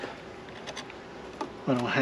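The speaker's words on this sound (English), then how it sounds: "There's still a ton of bees." A steady low buzzing of many honey bees in a hive, close by, with a brief voice near the end.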